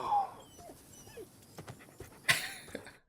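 A dog in a TV drama whimpers and whines in soft, high, broken cries with a few yips and pants, close and alone, ending in a brief louder yelp.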